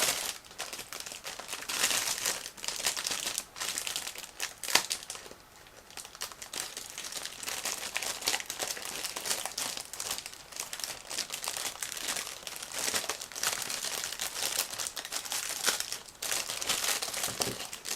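Plastic crinkles and rustles continuously up close, with small snipping and tearing sounds as scissors cut open a sealed plastic bag from a 1/35 scale model tank kit.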